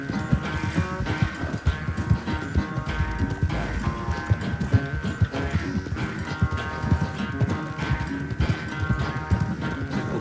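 A horse gallops in Red Dead Redemption 2, a rapid continuous clip-clop of hooves under a dense layer of game music and ambience, steady and close for the whole stretch.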